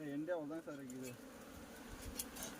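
Bees buzzing at a honey nest inside a tree hollow, a close, continuous hum that runs under a voice at first and then carries on alone.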